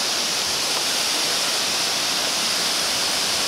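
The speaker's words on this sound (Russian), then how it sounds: "Вот мы на водопаде Родео" Rodeo waterfall in the Dominican Republic, a steady, loud broadband roar of falling water, continuous and unchanging throughout with no voices.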